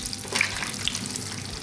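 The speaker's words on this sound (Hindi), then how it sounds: "ऑयल जो है मीडियम टू हाई गर्म हो गया है। इसमें सबको मैंने साथ डाल दिया है और अब मैं इससे चम्मच चलाऊँगी" Lentil (maash daal) dumplings frying together in medium-to-high hot oil while a spoon stirs them, giving a steady close hiss and crackle with faint scraping, no talk.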